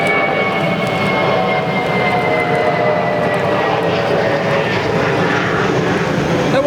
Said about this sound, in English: and planes coming overhead to ruin my audio.